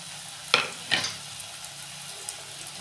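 Chopped garlic and green chilli hit hot oil in a pan for a momo chutney: two sharp sizzling bursts close together, then a quiet steady fry with no talking.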